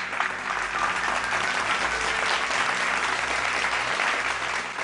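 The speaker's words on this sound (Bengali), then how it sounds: "জোরে হাততালি দুই বোনের জন্য।" A studio audience at a Bengali family game show claps loudly and steadily for about five seconds, a dense, even burst of applause with no break.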